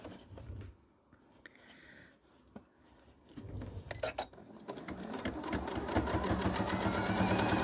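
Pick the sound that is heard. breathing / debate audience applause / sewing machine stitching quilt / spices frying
sewing machine stitching quilt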